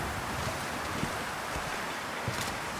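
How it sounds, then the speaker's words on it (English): Wind howls outside in The Long Dark as a dense, steady roaring rush, loud and unbroken, with faint gusty swells and a few soft thumps beneath it. "It is very windy outside."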